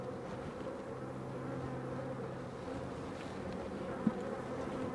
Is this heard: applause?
no